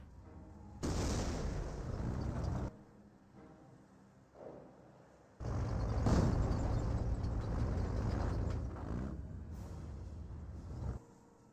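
Explosions and gunfire in Company of Heroes battle: two long, loud bursts of rumbling blasts and shots separated by a quieter gap with a faint thud.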